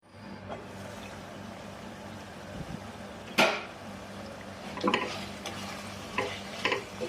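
Beef going into a pan of potatoes and button mushrooms for a spicy curry, with a soft frying hiss, a sharp clatter partway through and a few stirring scrapes.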